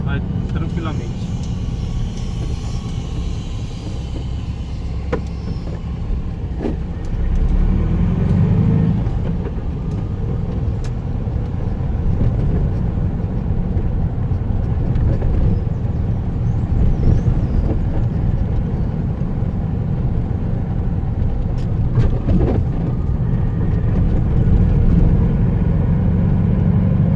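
A 1986 Volkswagen Fusca engine drones at a low, steady pitch while cruising at 30 km/h around 1000 RPM, a continuous rumble with road noise heard from inside the car as someone talks over it.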